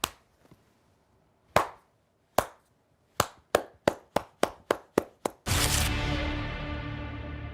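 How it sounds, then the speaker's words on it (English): A slow clap of single hand claps, starting sparse then quickening into a steady rhythm of about a dozen sharp claps, ending in a sudden burst of loud sustained noise like applause or cheering. "Slow clap."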